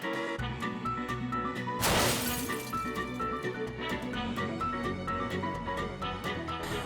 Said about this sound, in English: Nothing can stop it, except the car it crashed into.